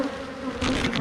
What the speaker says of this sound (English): tons of bees flying in here